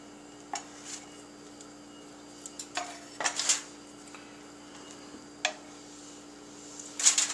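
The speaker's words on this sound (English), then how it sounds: "We're just going to cut them in half." A knife cuts potatoes in half on a cutting board in a kitchen for twice baked potatoes, giving a few scattered, faint knocks and clicks against a quiet background hum.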